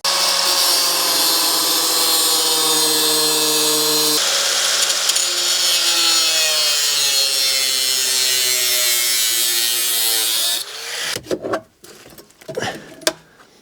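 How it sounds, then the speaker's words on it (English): An angle grinder cuts through the cab area of a Cummins-swapped Land Cruiser, a loud, close, high whine that holds steady and dips in pitch under load for about ten seconds, then stops, followed by a few clanks. "So I'm gonna cut through this area with the angle grinder."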